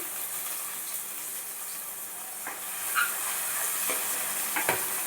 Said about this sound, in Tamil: கடுகு நல்லா பொரிஞ்சதும் இந்த கட் பண்ணி வச்ச வெங்காயத்தை நல்லா போட்டு வதக்கிடலாம்